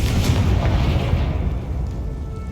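A Confringo blasting spell bursts in Hogwarts Legacy, a loud booming explosion with a heavy low rumble that decays over a couple of seconds, with no talking.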